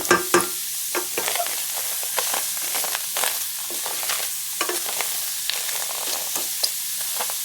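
Garlic dry-frying without oil in a stainless steel pan, with a soft sizzle beneath repeated close scraping and stirring strokes against the metal.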